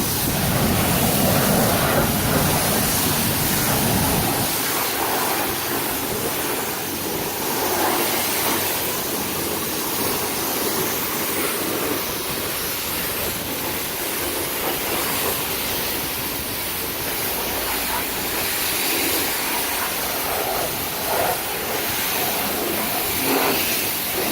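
A pressure washer rinses a car at a coin-operated car wash, a loud, continuous hissing spray with the water striking the body panels, shifting slightly in tone as the wand moves, close and without talk.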